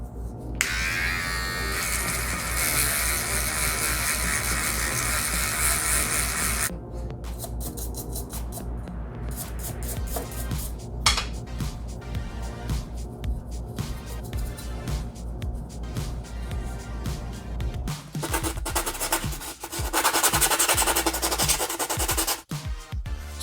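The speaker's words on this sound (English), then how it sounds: "getting those sanded down with my G-tool here" A handheld rotary tool sands 3D printed comic book cover pieces, a steady high-pitched buzzing whine that runs nearly continuously at close range, shifting in pitch and load as the bit grinds across the plastic surfaces.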